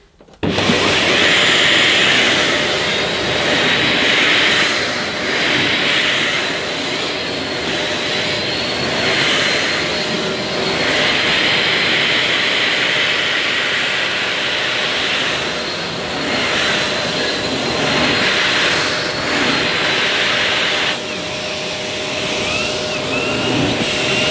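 A Sebo Airbelt D2 Komfort ePower vacuum cleaner runs at maximum suction with its turbo nozzle pushed over the floor, a loud steady motor roar with a high whine that rises and dips slightly for over twenty seconds.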